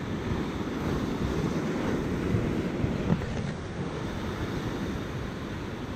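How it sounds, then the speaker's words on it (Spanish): Choppy sea waves wash steadily at a shore while spinning fishing, a continuous broadband rush with wind buffeting the microphone and no distinct breaks, loud and close throughout. "Está la mar bastante picadita."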